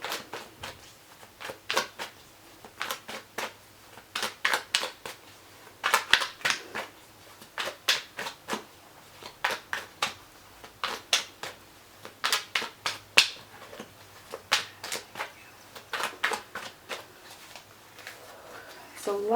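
Tarot cards being shuffled by hand in a quiet room, a long run of crisp riffling bursts in irregular clusters, close and clear, with brief pauses between shuffles.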